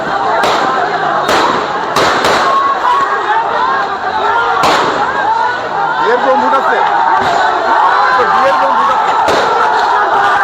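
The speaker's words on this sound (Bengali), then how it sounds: "পুলিশ সাউন্ড গ্রেনেড দিচ্ছে" Sharp explosive bangs of police sound grenades and rubber bullet shots ring out at intervals over a loud, restless crowd of protesters in a street clash, with shouting voices throughout.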